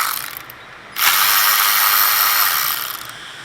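Ratchet with a T30 Torx bit socket loosening the center bolt on a Porsche Macan front brake rotor, a close, loud burst of rapid pawl clicking lasting a couple of seconds after a short quieter click.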